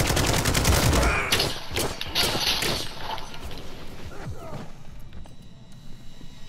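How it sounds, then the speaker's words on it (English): Rapid bursts of automatic gunfire in Call of Duty crack loudly at first, then thin into scattered shots and impacts, with a player's voice speaking over the action. "Oh, somebody's shooting me."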